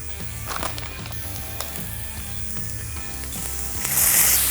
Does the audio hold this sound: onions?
yes